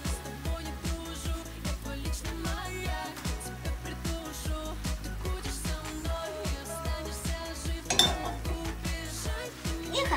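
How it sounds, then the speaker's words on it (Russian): Spoon scraping and clinking in a pan as cooked pasta is stirred into minced meat, with a steady run of repeated soft scrapes and knocks over a tonal background, fairly quiet with one louder knock near the end. "И хорошенечко размешиваем."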